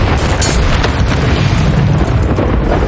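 A fiery Confringo spell explodes in the video game Hogwarts Legacy, a loud, dense rumbling blast that roars continuously with crackling bursts layered on top.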